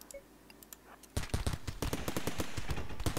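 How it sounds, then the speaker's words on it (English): Rapid gunfire from the Rimworld video game breaks out after a quiet second and continues as dense, fast bursts of shots to the end. The shots are moderately loud, with no talk over them. "Alright, Naomi, please shoot at Jane."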